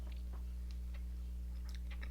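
Close, faint chewing of a thick Carolina Killa hot beef jerky piece, with soft irregular bites and moist mouth clicks over a steady low electrical hum.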